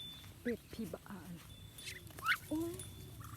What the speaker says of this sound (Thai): เป็ดพี่บ้าน